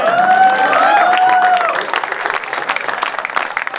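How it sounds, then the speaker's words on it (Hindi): A crowd claps loudly and steadily, with a voice ringing out over the applause at first before the clapping carries on alone. "जोरदार तालियों से स्वागत करिए हमारे इस इवेंट के स्टार परफॉर्मर कान्हा भाई।"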